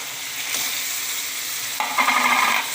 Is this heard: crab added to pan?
yes